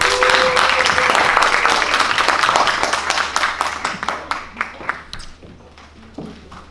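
Audience applause in a concert hall during a Monday music recital, dense clapping at first that thins into scattered individual claps as it dies away.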